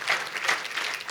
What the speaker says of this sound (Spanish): Dele un aplauso a la obra de Cristo.